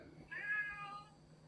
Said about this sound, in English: I can recognize the call of a distressed cat.